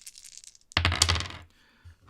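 Four dice from a Deep Space D6 solo board game tumble onto a table, a quick clattering burst lasting under a second after a faint rattle, then quiet.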